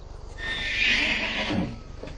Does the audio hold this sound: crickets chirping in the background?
no